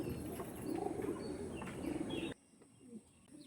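Pigeons of Malabar type cooing in a loft, soft low coos and chirps over a busy background murmur that suddenly drops away, leaving a few faint calls.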